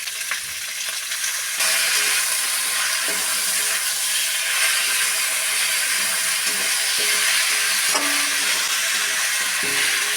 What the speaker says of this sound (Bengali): এবার দিয়ে দেবো আদা রসুন কাঁচা লঙ্কা বাটা।